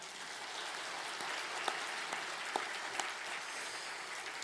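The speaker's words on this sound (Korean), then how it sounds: "모든 영광 하나님께 박수로 올려드리겠습니다" A church congregation claps during a Sunday worship service, a soft, even patter of many hands heard from a distance with a few sharper claps standing out, and no voices.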